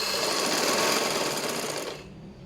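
A sewing machine stitches fabric along a tissue lace edge, running as a fast, steady, close mechanical whir that slows and stops near the end.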